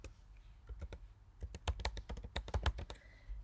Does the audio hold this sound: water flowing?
no